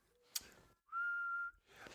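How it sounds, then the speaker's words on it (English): A person whistles one clear, steady note for about half a second, close and alone, with soft breathy noises before and after. "I can whistle."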